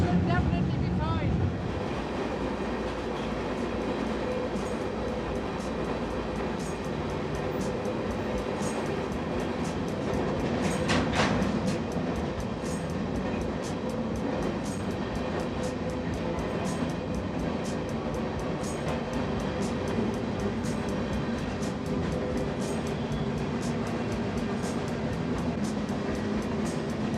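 Steady rumbling roar of a moving freight train, heard from aboard, with continuous rail noise and faint rhythmic clatter throughout.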